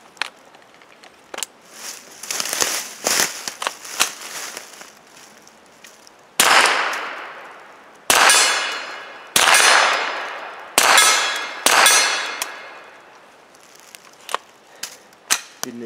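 A Mossberg Blaze .22lr rifle fires at an outdoor target range: five sharp, loud shots with ringing decays, spaced about a second or two apart, among quieter metallic clicks and handling noises.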